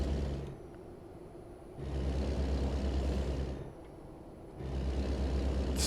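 A newer truck idles with a low, steady diesel rumble that swells louder and eases back twice, close by and with no talk over it.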